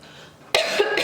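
A short, loud cough bursts out after a quiet stretch, followed by a second onset at the very end, from a woman with an allergic cough that has lingered for two weeks.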